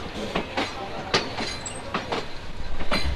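Chilahati Express passenger train running on its line through green outskirts of Dhaka, with a steady rumbling roll and repeated rhythmic wheel clacks passing over rail joints at moderate distance.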